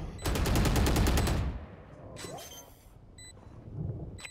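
Rapid automatic gunfire in Valorant, one loud burst of about a dozen evenly spaced shots lasting just over a second, then quieter single shots and game clicks and chimes.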